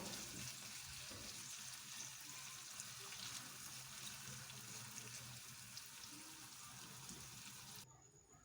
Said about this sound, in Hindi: अब हमने ऑयल गर्म हुआ है तो उसमें हमने प्याज शामिल कर दिया है। प्याज को हमने फ्राई करना है।